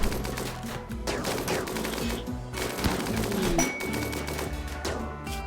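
Rapid turret gunfire in the video game RimWorld, bursts of sharp shots crackling over dense game music and effects throughout, loud and continuous without a clear pause.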